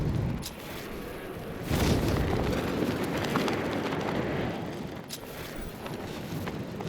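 Batmobile cannon blasts in the Batman Arkham Knight video game: heavy booming explosions and rumbling gunfire that swell around two seconds in, with a sharp crack near five seconds, loud and continuous with no talk.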